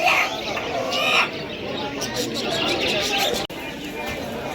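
A hen flaps and fusses at a poultry stall in a busy market, with bird clucks and rustling mixed into crowd noise and nearby voices throughout.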